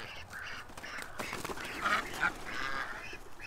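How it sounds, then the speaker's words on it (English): Agitated ducks quack loudly and repeatedly in a rapid, overlapping flurry, some calls rising sharply, close by with wing flapping mixed in and no talk. "the ducks are just losing it"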